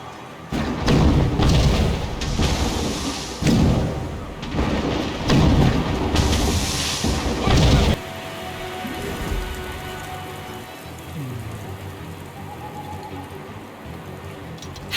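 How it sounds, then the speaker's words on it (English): Mortar explosions rumble in the Assassin's Creed Rogue video game, a run of loud, deep booming blasts over roughly eight seconds, then a quieter lingering rumble and debris under background voices. "Chevalier is using mortars to stop Shay."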